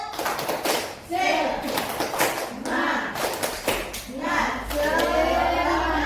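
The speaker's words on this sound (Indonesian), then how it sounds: "Tepuk semangat." Primary school children at an Indonesian school do a rhythmic spirit clap routine, loud patterned bursts of unison claps and slaps mixed with their chanting voices, repeated in several rounds.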